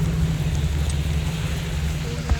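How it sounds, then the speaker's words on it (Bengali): Hail and heavy rain pour onto a road in a dense, continuous roar with a low rumbling undertone, steady and close for the whole moment. "বরফের বৃষ্টি"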